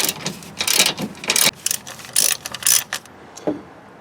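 Ratchet wrench loosening an 18 mm motor mount bolt on a car, close rapid clicking bursts in several runs with short pauses between, ending in a lone faint click.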